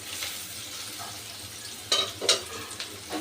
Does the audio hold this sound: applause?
no